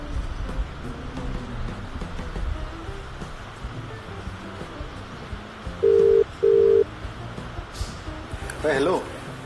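A telephone call's ringing tone sounds as two short, evenly spaced beeps, moderately loud over a rustling background with voices around.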